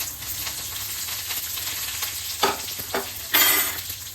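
Crushed garlic, dried chilies and curry leaves fry in hot oil in a home kitchen, giving a steady close sizzle with a few louder bursts of crackle and stirring scrapes.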